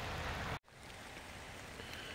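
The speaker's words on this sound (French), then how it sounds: "Tant pis pour la pluie." Steady rain falls outdoors as a dense, even hiss of drops on the ground, briefly cut to silence by an edit before continuing at a slightly softer level, with no voices.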